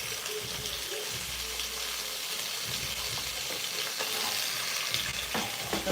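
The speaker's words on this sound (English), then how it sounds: "Sauteing the potatoes." Potatoes sauté in a pan with a steady hiss of sizzling oil and occasional scraping stirs, a continuous close-up frying sound without talking.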